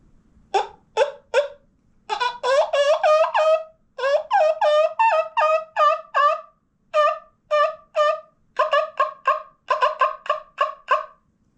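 High, raspy yelps from a wingbone turkey call made from wild turkey wing bones, imitating a jake, in quick bursts of three to six notes, repeated with short pauses, loud and close with no talking.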